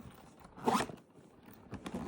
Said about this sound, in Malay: And boleh zip. Dan kita tutup.